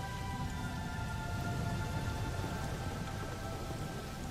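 Steady rain falling over exposed rock, a continuous dense hiss with a low rumble underneath, evenly loud throughout with no voices.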